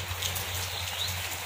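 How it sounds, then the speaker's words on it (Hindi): Steady rain falling on a rainy morning, a dense, even hiss of drops on surfaces, close and continuous with no voices. "आज आउ गोटे वर्षा सकाळ"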